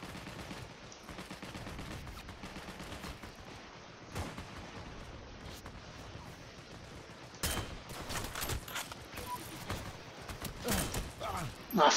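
Gunfire in the online shooter Heroes & Generals pops in scattered bursts and single cracks at moderate distance, growing denser toward the end, with a player talking over parts of it.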